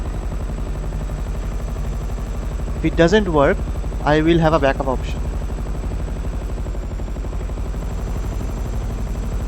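A helicopter in GTA 5 flies with a steady, loud rotor thrum that runs through the whole stretch, while someone talks briefly over it midway.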